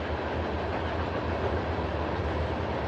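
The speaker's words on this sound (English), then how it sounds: "that train, man, needs to go the fuck away, bro. Leave us alone, train." A train rumbles past close by as a steady, loud, unbroken roar with deep low-end rumble, no voices over it.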